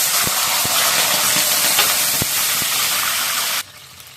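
Water poured into a hot pan of caramelized sugar and green chilies gives a loud, steady steaming sizzle that fills the scene, with a few faint clicks, then cuts off abruptly near the end.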